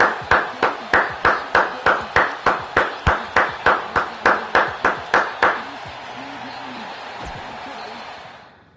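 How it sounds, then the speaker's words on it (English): Steady, evenly spaced claps ring out about twenty times in a regular rhythm at a women's wrestling event, then give way to a fainter, diffuse crowd murmur that slowly fades. "Give these women a round of applause."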